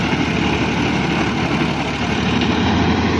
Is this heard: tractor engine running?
yes